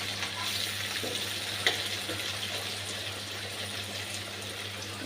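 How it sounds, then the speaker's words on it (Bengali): Onion and tomato fry in a pan for a chicken curry, a steady close sizzle with light stirring scrapes and one small clink, with no talking. "পেঁয়াজ, টমেটোটা ভেজে নিচ্ছি।"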